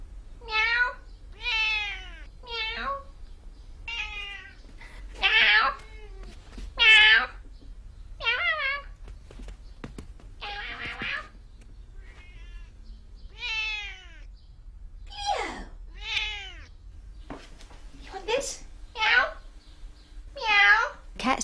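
House cats meow repeatedly indoors, a long run of about fifteen distinct, rising-and-falling calls spaced by short pauses, fairly close and clear against a quiet room.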